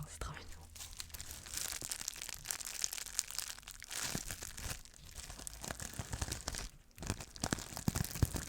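Close, crackly crinkling and tearing of bubble wrap packaging continues throughout, with a soft voice murmuring underneath.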